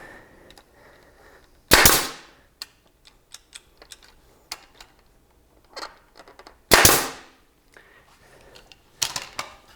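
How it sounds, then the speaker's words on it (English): Two loud, sharp pneumatic nail-gun shots with hissy bursts fire into wooden frame boards, spaced several seconds apart, with a third burst near the end and light clicks and handling noises between. "I basically took these and shot nails through them"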